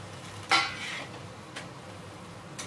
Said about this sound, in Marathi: कांदा परतून झाला, आता याच्यामध्ये हा टाकायचा टोमॅटो.